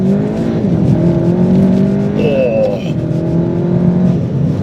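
A VW Golf GTI Clubsport pulls away from a standstill, its engine a loud, close, steady drone that builds and briefly shifts pitch mid-run. A voice exclaims over it.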